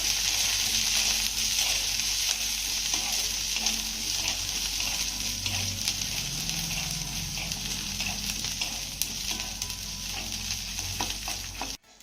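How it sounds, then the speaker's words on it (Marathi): A small bowl of peanuts roasts in a pan with chillies and garlic, giving a steady dry sizzle with frequent light scraping and rattling stir strokes, close and continuous until it stops abruptly at the end. "आता हे शेंगदाणे आपल्याला चांगले खमंग खरपूस भाजून घ्यायचे आहे"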